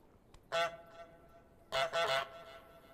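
A goose in Untitled Goose Game honks once, then gives a quick run of two or three close, loud honks over a quiet background.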